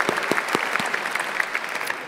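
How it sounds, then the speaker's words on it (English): Audience applause at a livestreamed startup pitch event in the Netherlands, steady clapping from a room crowd that fills the whole stretch with a few sharper individual claps standing out. "Applause for Helene, sorry."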